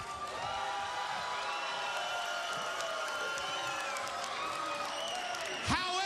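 Wrestling crowd applauding and cheering for Eric Young, a steady wash of clapping and whoops from a large audience, with a brief sharp sweep near the end.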